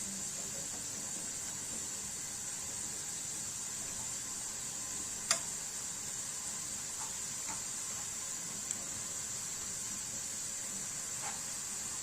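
Tomato and pepper paste sizzles in hot oil, a steady, even frying hiss throughout with a couple of faint clicks from the pan or utensil.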